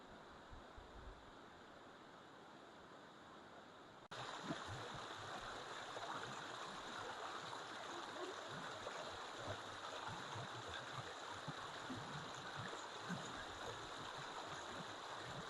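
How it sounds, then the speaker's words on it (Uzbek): A waterfall fed by mountain springs in the Tovoqsoy gorge rushes in a constant broadband roar, growing abruptly louder and closer after a few seconds and then holding steady. "Mana yana bitta chiroyli sharsharasiga duch keldik."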